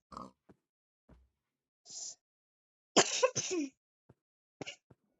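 A couple of harsh, loud coughs close together in the middle, with a few smaller throat sounds and scattered quiet noises before and after.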